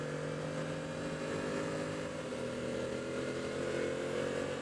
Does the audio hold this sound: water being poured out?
no